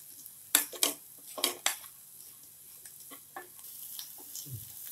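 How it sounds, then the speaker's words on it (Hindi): Carrots and onion fry in a pan for oats masala under a soft sizzle, while several sharp scraping clatters from stirring stand out near the start. "हमने गाजर भी भून लिया है प्याज के साथ।"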